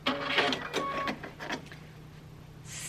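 A sewing machine stitching binding on a placemat whirs in a few short mechanical bursts, the run locking the stitches before stopping, then a faint hiss as the thread is cut, close and quiet with no talk.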